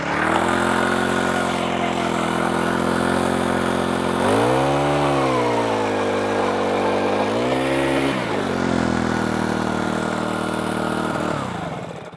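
Small gas engine powering an ice auger drilling through lake ice, a loud steady drone held close for several seconds, dipping twice in pitch as it loads up and recovers before winding down at the end.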